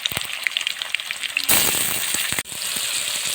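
Chopped onion and tomato sizzle in hot oil in a wok, a dense crackling fry that jumps louder halfway through as more goes in and keeps sizzling close by, with a brief dip near the end.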